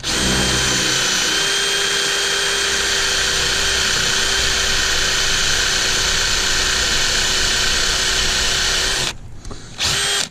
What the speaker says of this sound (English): now we got to drill out the holes for the new rivets